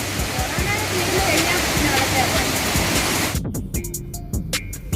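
Palaruvi waterfall in a forest in Kollam, Kerala, roars loudly and steadily at close range, then cuts abruptly to a much quieter scene with voices and scattered sharp sounds.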